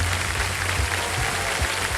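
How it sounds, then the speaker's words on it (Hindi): Studio audience applause welcoming new contestants on a televised quiz game show, a steady broadband clapping wash filling the whole stretch without letup. "बहुत जोरदार तालियों के साथ मैं चाहूँगा कि इनका स्वागत किया जाए"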